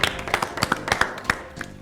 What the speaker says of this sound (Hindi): तालियों में कोई कंजूसी नहीं।